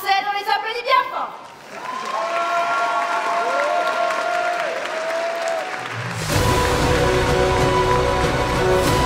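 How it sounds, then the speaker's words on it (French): An audience applauds a cosplay group from Clamp's Cardcaptor Sakura taking the stage at the Polymanga cosplay contest. The steady clapping blends with sustained tones from a voice or instrument, then loud music starts near the end. "Ils arrivent sur scène, on les applaudit bien fort"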